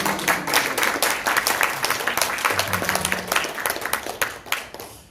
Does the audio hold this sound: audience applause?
yes